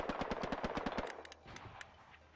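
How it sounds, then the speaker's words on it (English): Distant gunfire in the World War II shooter game Hell Let Loose, a quick burst of rapid automatic shots followed by a few scattered single cracks, fairly faint in the background. "Oh, you can already hear gunfire"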